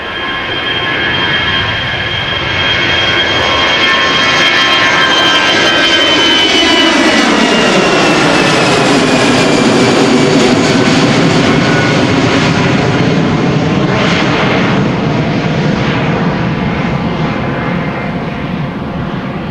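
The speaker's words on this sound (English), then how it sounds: "EasyJet flight 22516, A319 to London Luton" An EasyJet Airbus A319 departs Amsterdam Schiphol for London Luton: a loud, close jet roar swells and sweeps past with a falling whine, then settles into a sustained rumble, with no voices.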